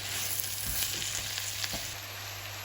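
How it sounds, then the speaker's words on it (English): Onions sautéing in a pan over medium heat, a steady faint sizzle with a few soft stirring scrapes, heard up close with no voices. "I'm going to saute the onions for 5 minutes on medium heat."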